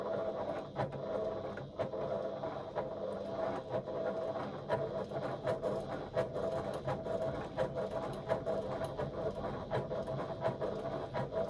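A sewing machine stitches a seam in quick, rhythmic bursts of needle clatter, fairly faint and close, with short pauses between runs.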